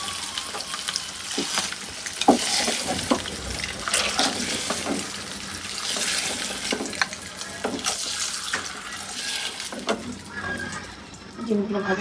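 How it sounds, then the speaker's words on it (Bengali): Eggs fry lightly in hot oil in a home kitchen pan, a steady close crackling hiss with scattered pops and clinks running throughout, with a voice faintly present. "ডিমগুলো হালকা করে ভেজে নেবো"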